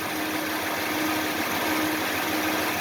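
A 5.7 Hemi V8 idling steadily with a fitted Indy Mod Man intake manifold, a close, even low hum with a constant tone and no voices.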